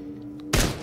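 A shotgun blast in the video game Into the Radius, fired at the player: one sudden loud, close, broadband crack after a quiet stretch, with a short fading tail and no talk.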